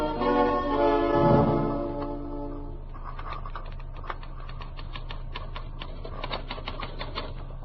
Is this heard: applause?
no